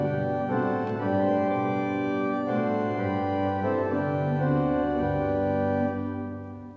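Organ playing a version of a song: sustained, richly layered chords swelling and shifting steadily, close and full, fading at the end, with no voices.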